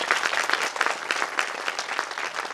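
Loud, dense applause from an audience at a school annual day, steady clapping throughout with no voices over it.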